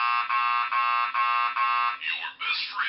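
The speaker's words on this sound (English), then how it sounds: "I think this is one of the ringtones that plays for my friends." A phone ringtone assigned to a best friend plays as a steady electronic buzzing tone in repeated pulses, then shifts into a warbling melodic pattern near the end, loud and alone.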